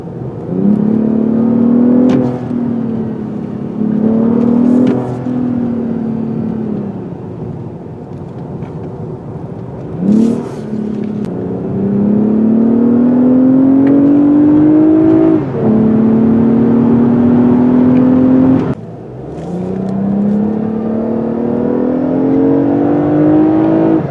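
A 2020 Lexus ES 350 F Sport drives a back road, its engine droning steadily and rising in pitch through repeated accelerations, with brief shift breaks between pulls and no talk.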